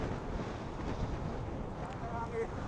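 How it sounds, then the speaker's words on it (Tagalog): Strong, steady wind roar buffets the microphone while riding a Honda Click 150i scooter down a mountain road with hairpin turns, a dense continuous rumble filling the whole stretch. "Tapos ang hangin pa."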